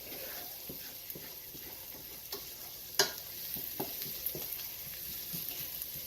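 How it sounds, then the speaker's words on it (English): Rice and onions cook in butter in a pan for a chicken mushroom risotto, with a soft low sizzle, scattered spoon stirs and one sharper knock near the middle. "I'm going to add the half a cup of rice, cup and a half of rice, excuse me, right now and get it cooking down and releasing the starch"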